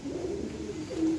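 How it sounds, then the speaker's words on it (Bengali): Soft, low cooing from pigeons inside a loft, continuous and somewhat distant with a faint background hiss, no voices. "ভেতরে কিন্তু এখনো অনেক পায়রা রয়েছে"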